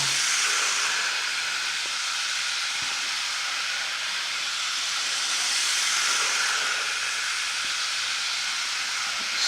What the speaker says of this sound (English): I've turned the locomotive up to speed now.